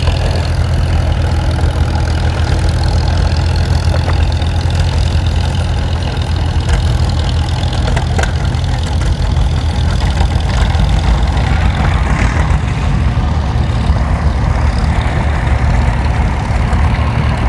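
A tractor engine idles steadily throughout at an outdoor tractor pull show, a loud, continuous low rumble that never lets up, with no talk over it.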